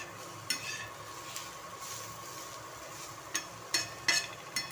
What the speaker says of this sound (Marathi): आता हा मसाला चांगला भाजून द्यायचा